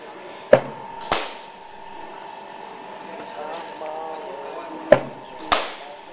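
Cricket bat striking the ball in a net session, four sharp wooden cracks in two pairs, close and loud over a faint background hum.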